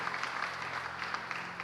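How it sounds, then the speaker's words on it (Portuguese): A church congregation applauding a team of volunteers, a soft, steady patter of clapping heard from some distance, with no voices over it. "merece o nosso aplauso. Você pode fazer isso?"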